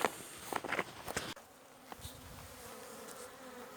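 A soft, continuous buzz of many honeybees on orientation flight at a hive hums in the background, with a few sharp clicks and knocks near the start.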